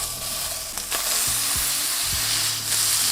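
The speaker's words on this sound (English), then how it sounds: "And now cook the other patty." A chicken burger patty fries in a hot pan, giving a steady, close sizzle that continues without a break, with a few low knocks and thuds from handling the pan and the patty.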